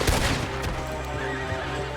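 A horse whinnies loudly over hoofbeats and a busy background of game action in Red Dead Redemption 2, brief and close.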